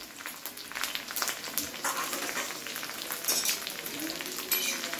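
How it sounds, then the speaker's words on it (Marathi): Green chillies roasting in a pan for a spicy Maharashtrian kharda, a steady light sizzle and crackle with occasional stirring scrapes, close and continuous. "हिरव्या मिरच्या चांगल्या भाजल्या गेल्यात"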